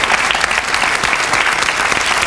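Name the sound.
talk show studio audience clapping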